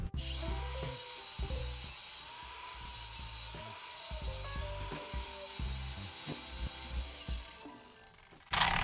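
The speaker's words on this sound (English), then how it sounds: "then I'm gonna hit it with the flap disc." A flap disc grinds down the bead of a welded tube, a steady abrasive hiss with a high whine, broken by irregular low rumbling bursts as the disc bears on the metal; no talking.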